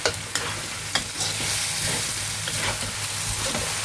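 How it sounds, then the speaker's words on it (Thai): Spaghetti stir-fried in a hot pan, a steady loud sizzle broken by repeated scraping and tossing clatters of the utensil, with no voices. "ผัดแห้งนิดนึง ผัดประมาณนี้นะคะ"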